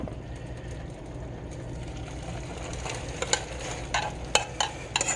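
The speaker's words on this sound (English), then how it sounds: "let's see what happens when I put this in the frying pan." Steady sizzling and crackling from rice frying in a hot pan, with a few sharper pops and spits growing toward the end.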